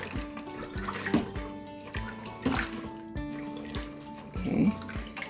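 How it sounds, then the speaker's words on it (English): A pot of Jamaican stew peas with kidney beans is stirred, giving close wet sloshing and scraping strokes that recur at a slow, uneven rhythm, with no talking. "Let's give it a good stir."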